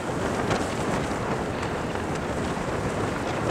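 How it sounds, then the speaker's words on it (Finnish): Strong wind beside a boat roars continuously, buffeting the microphone with a dense, rushing noise and slight gusting swells. "kun tuuli on yltynyt sillä lailla niin kuin ennustettiinkin"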